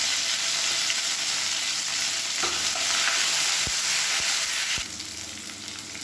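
Mint leaves, green chilies and curry leaves fry in a pan for an idli chutney, giving a steady loud sizzle with stirring throughout and a few sharp clicks of a utensil against the pan near the end.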